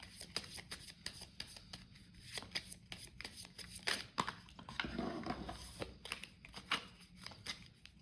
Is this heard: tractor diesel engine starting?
no